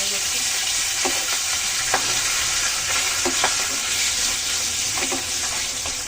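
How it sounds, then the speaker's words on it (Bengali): Tengra fish frying in hot oil seasoned with turmeric gives off a loud, steady sizzle throughout, with occasional soft clicks and pops as the pieces shift in the pan. "তেল গরম হয়ে এখন মাছগুলো ভেজে নেবো তেলের ভিতরে একটু হলুদ দিয়ে নিয়েছি এখন দিয়ে দিলাম মাছগুলো"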